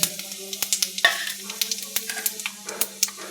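Dried red chillies spluttering in hot oil in a kadai with five-spice tempering, bursts of sharp crackles and pops at an uneven rhythm over a steady low hum, close and fairly loud.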